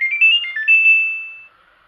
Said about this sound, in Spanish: ha hecho el ruido característico de conexión